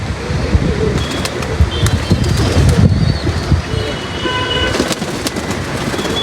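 Kept pigeons coo low and steadily amid bursts of wing flapping during the rainy season, with a busy outdoor background of traffic and a distant horn.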